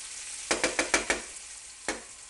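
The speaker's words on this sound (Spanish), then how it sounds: "Lo mezclamos bien con el puerro para que coja todo el sabor." Tofu and leek are stirred in a frying pan, making a quick run of five close scraping, clattering strokes followed by one more after a pause, over a faint background sizzle with no speech.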